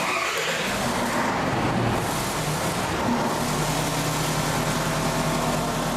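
A small engine, set to maximum starting fuel with speed ramping, runs steadily and loudly the whole time with a low continuous drone and no distinct start-up surge.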